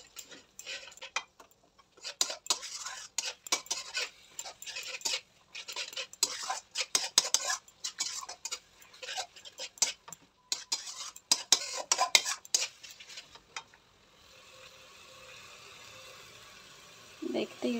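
Biryani gravy being sautéed and stirred in a pan, with rapid, irregular clinks and scrapes of a spoon against metal in close bursts, then a quieter stretch of soft sizzle near the end.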